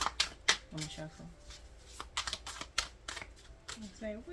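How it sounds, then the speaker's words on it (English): Cards being shuffled in a few quick riffling bursts, with a person talking intermittently between and over the shuffles, close up. "Let me shuffle."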